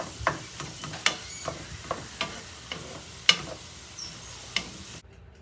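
Meat frying in a pan with cherry tomatoes tossed in, a steady quiet sizzle broken by sharp spoon taps and scrapes at irregular intervals, close up and without speech.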